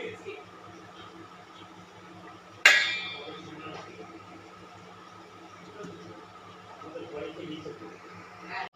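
A lid set over chicken in a cooking pot for white chicken korma lands with a single sharp metallic clink, then rings and fades under faint kitchen background noise.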